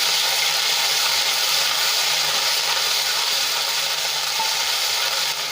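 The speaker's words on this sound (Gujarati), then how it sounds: "અને એને આપણે અડધી મિનિટ માટે સાંતળી લઈશું" Ginger, garlic and chili paste sautéing in hot oil in a wok, a steady dense sizzle and crackle that holds evenly loud throughout with no talking.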